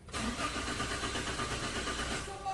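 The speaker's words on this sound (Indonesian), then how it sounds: "Kemudian mesin kita starter." A car's starter cranks the engine steadily for a couple of seconds without it catching, a continuous close mechanical whirring with no voices, the car having an electrical cable fault at the fuse box.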